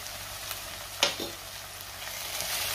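Fenugreek leaves are stirred in a hot pan, a steady, gentle sizzle broken by one sharp scrape of the spoon against the pan about midway, close and moderately quiet, with no voices.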